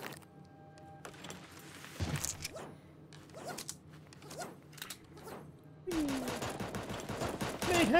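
Bursts of rapid gunfire from a video game shooter, clattering volleys and single shots spread over several seconds, with a louder, busier stretch of firing near the end.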